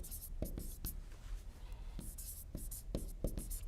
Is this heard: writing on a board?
yes